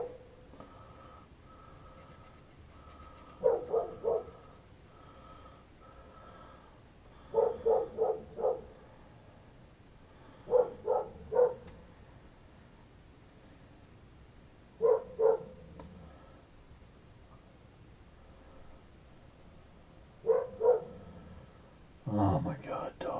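A dog barking indoors, in short bursts of two or three barks recurring every few seconds, moderately loud against a quiet room with soft speech nearby.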